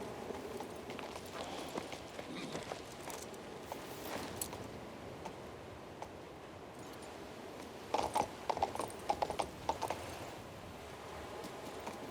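Horse hooves clip-clopping in the video game King's Bounty II, a steady quiet trot under game ambience with a few louder knocking steps toward the end.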